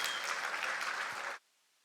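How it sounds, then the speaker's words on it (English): Applause at the Development Bank of Namibia's 20th anniversary gala, a dense, steady wash of many hands clapping throughout the hall that stops abruptly after about a second and a half. "I think that in itself deserves a round of applause."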